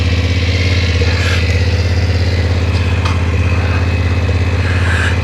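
A BMW F900 GS motorcycle engine runs loud and close as the ride begins, a steady throbbing mid-pitched drone with slight revving swells and no talk.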